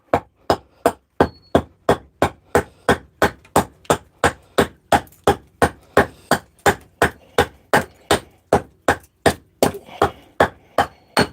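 An axe repeatedly strikes a piece of wood along a drawn line, roughly thirty sharp evenly spaced chops at a brisk steady rhythm, close and loud, each hit ringing briefly before the next.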